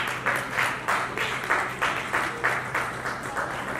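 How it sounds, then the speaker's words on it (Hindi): An audience at an annual poetry gathering claps together in a steady rhythm, loud regular bursts about three per second that continue without a break. "तालियों में वो जोश और गड़गड़ाहट नहीं है जो होनी चाहिए।"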